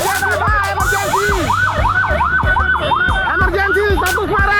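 Ambulance siren wailing loudly and close in a repeating rising-and-falling pattern as the ambulance carrying a critical patient is held up by an official's motorcade, with deep vehicle horn blasts and engine rumble underneath.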